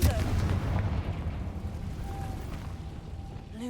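A Confringo fire spell explodes in Hogwarts Legacy, a loud, deep booming blast that rolls out from the start and slowly fades over a few seconds.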